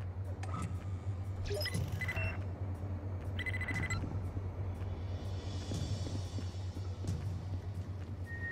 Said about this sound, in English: Oh no, bad beeping.